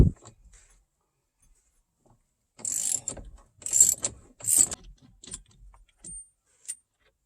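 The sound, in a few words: ratchet with 24 mm socket removing steering wheel nut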